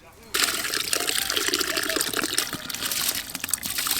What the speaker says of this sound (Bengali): প্রথমে ভাতের জন্য জল খুব ভালো করে গরম করে নিয়েছি, এবার ধুয়ে রাখা সব চাল দিয়ে দেব।